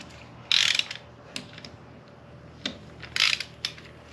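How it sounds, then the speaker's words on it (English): A ratchet clicks close by while loosening lug nuts on a Pontiac Fiero wheel, two bursts of rapid ratcheting about three seconds apart with small metallic knocks between. "get the lug nuts busted loose"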